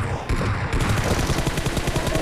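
Rapid automatic gunfire from the video game PUBG Mobile rattles in a fast, even burst of loud, close shots lasting the whole moment.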